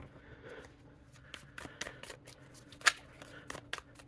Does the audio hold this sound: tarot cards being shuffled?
yes